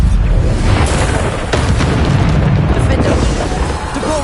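Repeated Bombarda spell blasts from the video game Hogwarts Legacy, a dense rumbling boom sustained throughout with crackling bursts layered on top, loud and continuous.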